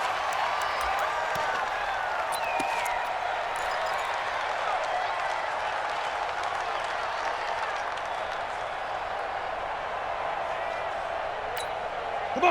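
A stadium crowd roars as a steady, even wash of noise during a Titans at Vikings game in Madden NFL 20. Faint voices run underneath.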